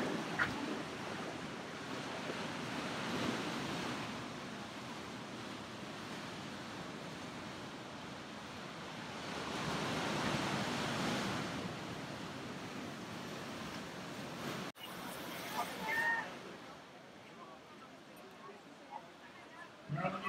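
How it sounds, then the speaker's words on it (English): Surf at Bondi Beach in Sydney rolls in as broad, washing swells that rise and fall under steady wind noise, with faint sounds of people toward the end. "here's Bondi Beach"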